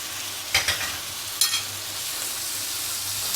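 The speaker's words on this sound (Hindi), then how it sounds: "इसमें अब हम डाल देंगे भाजी जो हमने अभी यहाँ पर मैश करके तैयार करके रखी है" Mashed pav bhaji vegetables sizzling in garlic-ginger and green chilli paste, with a steady hiss of frying and two short bursts of scraping and stirring from a spatula, close up, with no voices.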